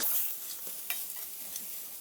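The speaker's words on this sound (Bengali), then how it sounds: "ফুলকপিটা দিয়েও নেড়ে চেড়ে নিলাম" Cauliflower and bottle gourd peel being stirred in a pan, a soft, quiet sizzle with faint scraping strokes of a spatula, close up and without voices.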